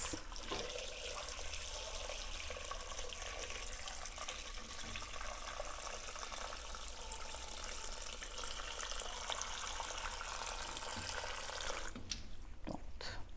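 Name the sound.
water pouring into a pot of green bananas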